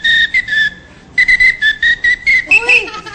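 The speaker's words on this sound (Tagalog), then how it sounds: "ginagamit po niya ang pito para makalikha ng musika" A police whistle played as a musical instrument gives a bright, piercing melody of short phrases with rhythmic gaps, loud and close, gliding between two pitches and ending in quick trilled notes.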